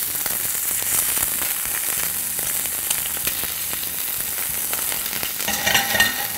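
Beef tongue sizzles steadily in a hot pan, browning toward a golden colour, with a dense continuous crackle and a few scraping stirs, loud and close with no voices.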